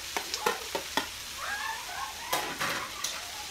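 Garlic, mushrooms and chicken fry in a pan, with a soft sizzle under sharp clinks and scrapes of a utensil stirring, and a few squeaky spatula strokes.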